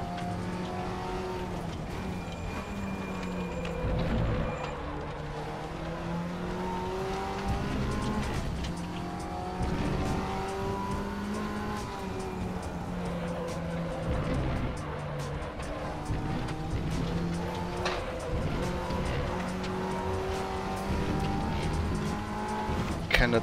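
Race car in the RaceRoom sim racing game, engine droning and revving steadily with repeated pitch sweeps through gear changes, tires squealing now and then over a constant mechanical roar.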